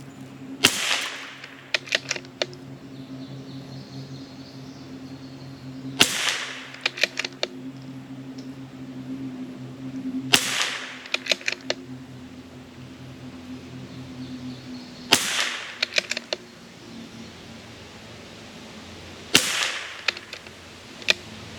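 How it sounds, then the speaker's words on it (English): A CZ 457 rimfire rifle fires five sharp, close shots about four to five seconds apart on an outdoor range, each a crisp crack over a steady low background hum. "We'll shoot 5 more."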